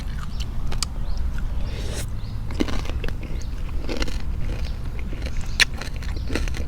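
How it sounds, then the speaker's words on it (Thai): Homemade Thai crispy pork belly being bitten and chewed close to the mic, with crunchy crackles over a steady low background rumble and no talking. "เบิ่งนะฟังเสียงหมูกรอบแซ่บๆกันนะ"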